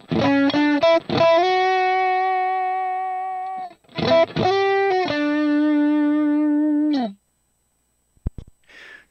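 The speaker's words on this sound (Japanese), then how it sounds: "たまたまこれプレキシの 100W を選んでおりますけども、これでクリーンの成分を狙ったらどうなんのよってことですね。" Electric guitar played through a Fractal Audio FM9 Turbo modeling a 100W Plexi amp, crunchy and lightly distorted: quick strummed and picked chords ringing out into two long sustained chords, then a brief muted scratch.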